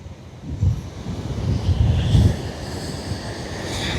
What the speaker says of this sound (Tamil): இங்கே இந்த தண்ணி என்ன வேகமாக போகுதுன்ட்டு பாருங்க